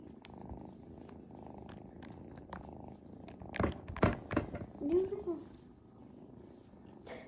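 Three cats purring in a continuous low rumble, with a person talking briefly over it partway through.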